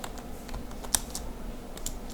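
Close computer keyboard typing, a short run of light keystrokes with one sharper key press standing out, otherwise quiet.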